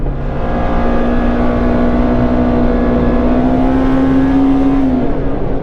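A Ford Expedition on long travel suspension and 35-inch tires drives across a field in two-wheel drive. A loud, steady engine hum rises slowly in pitch under continuous road and wind rumble from inside the cab.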